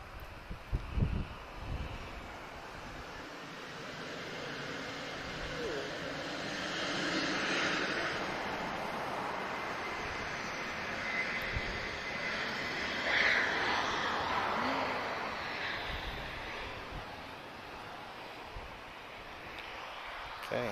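An Embraer E190 jet departs Lisbon Airport for Brussels with a steady, broad engine roar that swells and eases over about twenty seconds. A few light thumps come near the start.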